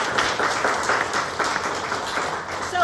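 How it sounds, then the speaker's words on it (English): A crowd applauds at a celebration of a community mural, steady mid-level clapping from many hands that continues evenly throughout, with no voices over it. "I think they owe a round of applause for that."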